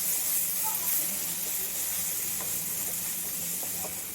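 Masala with a spoonful of coriander powder frying in a pan for parotta salna, giving a steady, fairly close hiss that holds evenly throughout with faint clinks underneath.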